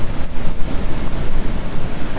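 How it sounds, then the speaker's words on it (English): Rough sea crashing on the rocky Madeira coast at Seixal, a loud continuous roar of surf mixed with wind buffeting the microphone, with no voices. "the sea is so rough that I can't get close to it"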